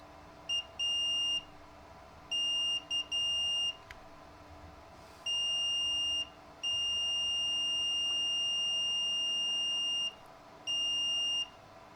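A multimeter's continuity tester gives steady high-pitched beeps in several bursts of varying length, while testing a Philips, AWA, Fisk or National Panasonic radio, over a faint background hum.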